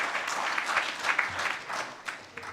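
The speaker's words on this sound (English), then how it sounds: "please give a big round of applause" An audience at a water and energy congress claps for a speaker, a dense, steady round of applause with a few sharper claps that tapers slightly toward the end.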